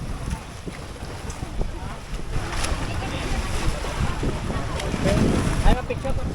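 A boat crossing open sea toward Islas de Gigantes, with a steady broadband rush of wind and waves against the hull throughout, fairly loud and close, and some voices underneath.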